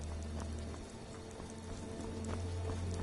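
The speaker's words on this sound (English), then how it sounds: "This horse here should have a rider on it." Horse hooves clip-clopping in the video game Skyrim, a steady run of soft thuds over a continuous low ambient hum and background game sounds.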